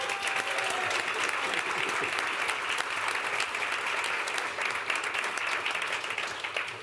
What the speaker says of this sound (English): so I would love to give them a round of applause